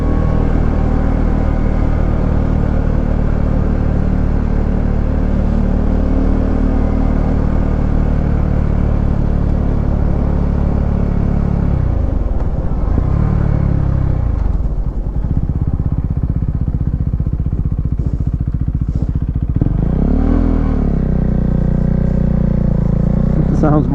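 A Husqvarna Svartpilen 401 motorcycle, with an engine mod, is ridden with a steady loud low single-cylinder rumble that rises and falls twice as the rider changes speed. Someone speaks over the engine.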